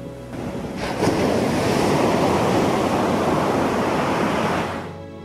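Ocean surge waves crash along the shore of an Ondo coastal community, a loud, continuous roaring wash of surf that swells in and holds steady for several seconds before easing off, with no voices.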